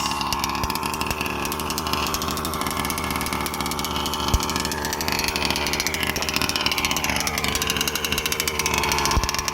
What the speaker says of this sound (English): we're breaking in this engine at the moment. We're just running an idle and rich for a few tanks.